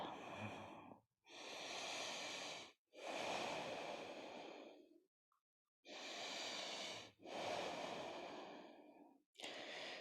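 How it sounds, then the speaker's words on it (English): Slow, deep breaths fill the recording: long, airy inhales alternate with equally long exhales, close and soft, separated by short quiet pauses. "Just long, slow inhales and equally long, slow exhales."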